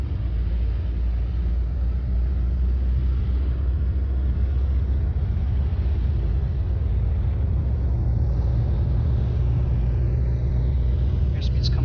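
A Dash 8 Q400 turboprop in Flight Simulator X rolls down the runway for takeoff, its engines a loud, steady low rumble that holds evenly throughout while someone talks over it.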